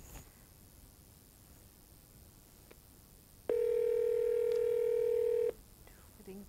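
A steady electronic telephone tone, likely a dialing or dial tone, sounds while a call is placed on a live Punjabi call-in programme. It holds loud and constant for about two seconds over quiet background, then stops.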